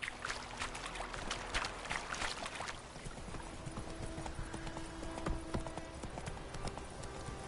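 Horse hooves clip-clopping in The Witcher 3 video game, a steady close trotting rhythm that quickens at first and then settles, with a faint background wash and no talking.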